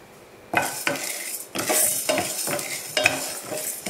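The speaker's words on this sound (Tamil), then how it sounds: "இப்போ வந்து உளுத்த பருப்பை போட்டுக்கலாம்." Urad dal fries in hot oil in a pan while a metal spoon stirs and scrapes it for curry leaf powder, giving a steady sizzle broken by several sharp, close scraping strokes.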